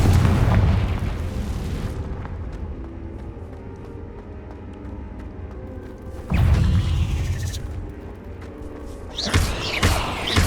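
Fiery blasts of the Confringo spell in Hogwarts Legacy: a loud booming explosion at the start, a second heavy blast midway, and another burst near the end, each followed by a rumbling tail.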